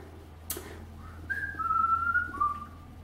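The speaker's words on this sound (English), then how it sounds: "I really can only whistle inward." A person whistles inward, drawing breath, in a short, wavering tune of a few sustained notes, close and fairly clear, over a low steady hum.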